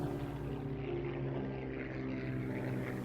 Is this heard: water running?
no